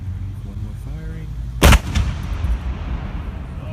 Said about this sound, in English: One more firing.